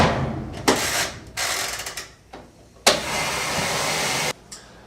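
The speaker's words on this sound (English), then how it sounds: "our clothes are finally done getting washed" A washing machine washing clothes churns in loud mechanical bursts of whirring and rattling, each starting sharply, running for a second or more and then stopping, with quiet gaps and brief clunks between them.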